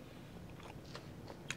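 Someone chews a bite of food close to the mic, soft irregular crunches and mouth noises over a quiet hiss, with no talking.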